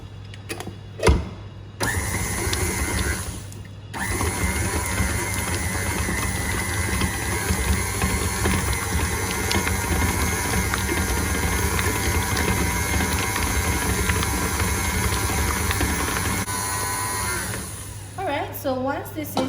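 An electric mixer whirs steadily while beating cheesecake batter with sugar and vanilla for Nutella cheesecake bars, a loud continuous drone after a short start that cuts out near the end.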